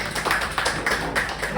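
A crowd at a youth-oriented launch event claps, the brisk scattered hand claps running under a speaker's voice that continues throughout.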